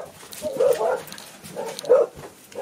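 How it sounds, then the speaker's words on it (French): Several dogs barking then dashing off at full gallop indoors nearby, giving two muffled, mid-loud bursts of barks with scuffling between them and no talking. "Ce sont mes chiens qui sont partis au triple galop."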